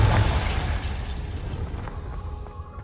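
A Confringo fire-blast spell from the video game Hogwarts Legacy bursts with a loud, dense boom that rumbles low and slowly fades over a few seconds amid background game noise.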